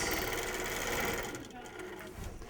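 A long arm quilting machine stitches fast along a ruler template, a dense mechanical whir that runs loud and close before easing off, with a voice talking over it.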